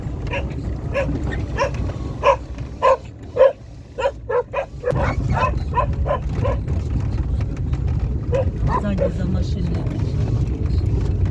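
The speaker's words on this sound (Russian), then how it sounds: "А, і собаки." Dogs barking at a ruined rural homestead: a run of sharp, loud barks in the first five seconds, then fainter, scattered barks over a steady low rumble of wind or an engine, with people talking.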